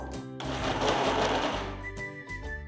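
A kitchen mixer grinder grinds vada batter in pulse mode, giving a short, loud whirring burst that rises and falls within a couple of seconds, with brief quieter gaps before and after.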